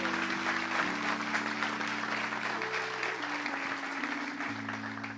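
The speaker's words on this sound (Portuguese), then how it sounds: "Você pode aplaudir a Ele com toda a sua força?" A church congregation applauds during a worship service, steady sustained clapping with a held musical chord underneath throughout.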